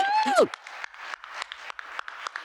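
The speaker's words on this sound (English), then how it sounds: "Give yourself a round of applause for being here." Scattered, sparse claps from a small audience at a Harlem digital equity listening session follow a loud whoop at the start.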